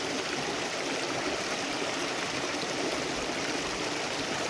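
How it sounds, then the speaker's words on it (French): Steady, full rush of a little woodland brook flowing into a river in Doncaster park, heard up close as an unbroken hiss and gurgle of moving water, with no voices. "Donc, on profite des sons de l'eau."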